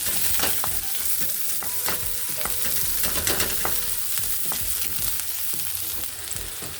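Onions fry in oil in a hot pan with a continuous close sizzle and crackle, and a spoon stirs them in frequent light scrapes, with no talking throughout.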